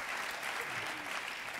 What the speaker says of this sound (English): Give them a warm round of applause, ladies and gentlemen.